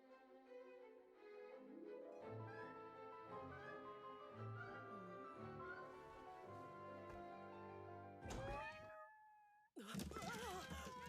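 Cats meow repeatedly in a video game, a series of drawn-out, wavering cries that rise and fall, loud and close, ending with a couple of sharper, more strained yowls.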